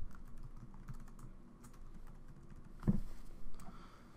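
Quiet, steady typing on a computer keyboard while entering a transaction description in accounting software, with soft irregular key clicks and one louder thump near the end.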